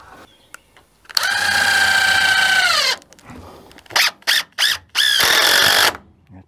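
A power drill drives screws into the wooden framing of a sawmill shed. It gives one long whining run, then several short bursts and a final sustained run, all close and loud.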